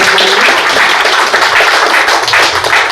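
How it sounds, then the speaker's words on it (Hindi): Loud, sustained applause from the audience at a Hindi poetry recital, a thick continuous roar of many hands clapping close by. "एक बार जोरदार तालियां बजा के दीजिए"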